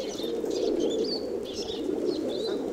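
Male doves in breeding season coo in a steady, rolling chorus, close and continuous, with higher chirps and tweets from other birds, including parrots, scattered over the top.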